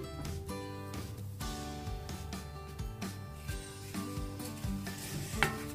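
Semolina roasting in a pan for karanji filling, stirred with a utensil that scrapes and clinks against the metal in an uneven rhythm, fairly quiet and close with no talking.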